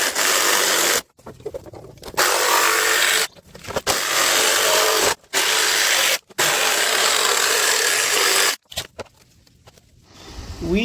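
A window insert for a campervan fan opening is cut with a power tool in several loud, sustained bursts of harsh rasping and grinding, separated by short pauses, close by with no talking.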